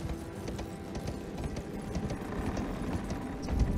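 Steady hoofbeats of a horse in the video game Elden Ring clopping in a continuous rhythm over a dense, rumbling background, with no talking.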